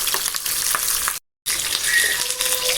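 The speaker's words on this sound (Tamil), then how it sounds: "ஆயில் காஞ்சதும் வாழை இலையில் ரெடி பண்ணி வச்சுருக்கேன் மீன் எடுத்து அதில் வச்சு வேக விட்டுக்குவோம்." Fish fries on a banana leaf on a hot tawa with a loud, dense crackling sizzle, broken once by a brief moment of silence before the frying resumes.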